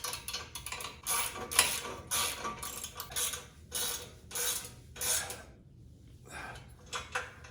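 A ratchet with a 1/2 inch socket tightens nylock nuts on a motorcycle in quick bursts of rapid clicking, close and crisp, separated by short pauses.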